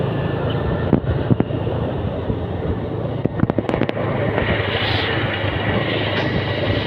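Firecrackers burst at the Amrutheshwara temple fair in Vamanjoor, with a cluster of sharp cracks over a dense continuous roar of crowd and festival noise.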